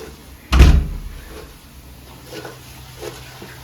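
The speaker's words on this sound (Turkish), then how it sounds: "Hadi geç de kapıyı kapatayım." A house door pulled shut with one sharp thud, loud and close, followed by quiet room sound with a few faint knocks and small movements afterward, no speech.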